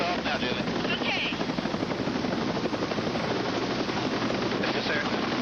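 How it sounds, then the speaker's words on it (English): Medical rescue helicopter lifting off, its rotor and turbine a loud, steady, close roar with rhythmic blade chop throughout. "Lift off now, Julie."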